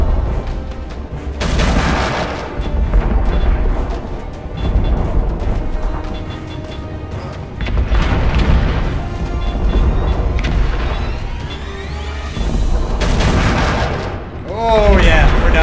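Heavy ship guns fire in the space combat game Angels Fall First, booming in repeated loud blasts with rumbling tails across a long stretch, with someone talking at times between them.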